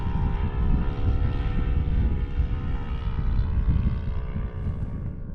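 Small engine of an 83-inch balsa RC trainer airplane at full throttle, a loud continuous buzzing drone holding steady with slight pitch wavering throughout.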